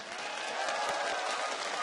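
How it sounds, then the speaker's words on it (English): A crowd applauds steadily at a League of Legends World Championship quarter-final, a dense wash of clapping that stays at an even level throughout. "can you please give yourselves a round of applause for being awesome"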